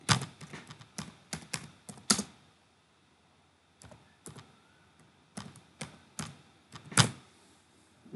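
Someone types on a computer keyboard in a quiet room, with close, crisp clicks in short bursts and a brief pause partway through.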